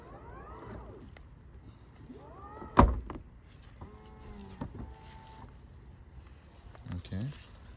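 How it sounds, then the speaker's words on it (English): The rear door of a 2020-2024 Toyota Highlander is closed by hand, making one sharp, solid thud midway through while a person talks before and after it. "we have to manually close the door to reset the system."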